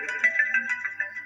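Cima, a phone ringtone, sounds as a short electronic melodic phrase of quick, bright tones, loud and alone for just over a second.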